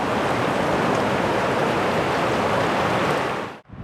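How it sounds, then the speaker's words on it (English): The clear Tyro River near Crabtree Falls rushes steadily in a dense, loud wash of flowing water, close by and uninterrupted, then cuts off abruptly at the end. "Look how clear this water is. This is the Tyro River."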